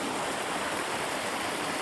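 Shoals Falls tumbling down Walden Creek near Dahlonega, Georgia: a steady, full rush of water that stays constant and close throughout, with no voices over it.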